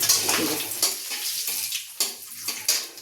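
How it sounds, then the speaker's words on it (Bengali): Cumin seeds, bay leaf, whole garam masala and chillies are dropped into hot oil in a kadai, a bright crackling sizzle with sharp pops and spatters over about three seconds, no talking. "কড়াইতে তেল গরম হয়ে গেছে, এই যে সাদা জিরা ফোড়ন আর তেজপাতা, গোটা গরম মশলা আর লঙ্কা, এটা ফোড়নটা দিয়ে দিলাম"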